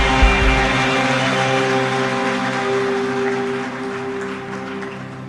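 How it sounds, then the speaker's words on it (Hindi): A church congregation claps loudly, with dense, steady applause running for several seconds over a sustained tonal drone, probably an organ or keyboard. "Come, men, let's give them a warm hand. सारे भाई जोरदार तालियां सारी बहनों के लिए।"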